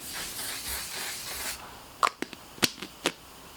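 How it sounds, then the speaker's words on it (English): A One Size On Till Dawn mattifying waterproof setting spray hisses in a soft continuous mist for about a second and a half, followed by a few quiet clicks and taps. "I'm going to spray this One Size setting spray."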